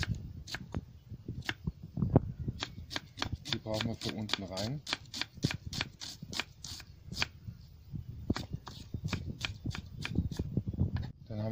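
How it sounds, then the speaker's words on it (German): An onion is diced into cubes on a board outdoors while burgers are being prepared, with a fast, steady series of sharp knife chops close up as someone talks in German. "dann schneiden wir mal die Zwiebel in Würfel"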